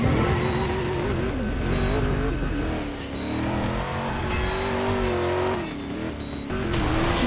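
A car in Driver: San Francisco races at speed, its engine roaring loud and steady with shifting pitch as it accelerates and eases off. Faint tire and impact noises come through under the engine.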